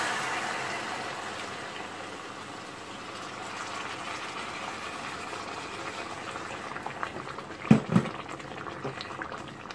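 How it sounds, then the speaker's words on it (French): Boiling water poured into a chicken and potato tajine pot, a continuous bubbling, gushing pour with a couple of sharper splashes and knocks near the end, close by with no talking. "je vais ajouter de l'eau bouillante"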